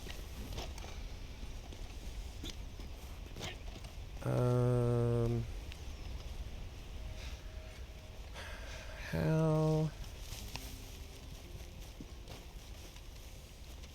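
Horse hooves clip-clop in a video game as the rider sets off, soft rhythmic steps under game ambience, broken by two loud tonal game sounds; a brief spoken word occurs.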